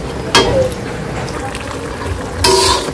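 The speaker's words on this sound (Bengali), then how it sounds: "তো মশলাটা ভালো করে কষে নিই, তারপরে হলুদ মরিচ দিব।" Spice paste for a village-style chicken curry sautéing in a pan, with a constant crackling sizzle and two louder scraping stirs near the start and end.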